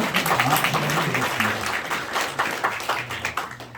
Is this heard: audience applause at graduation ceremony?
yes